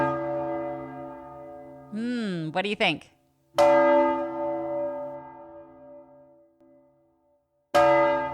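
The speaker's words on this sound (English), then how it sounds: "If you guessed church bells ringing," Two loud church bell strikes ring out several seconds apart, each decaying in a long shimmering tone, with a short spoken question before the first.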